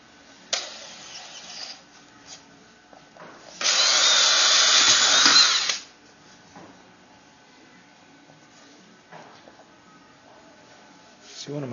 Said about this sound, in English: So now we're just going to drill the holes.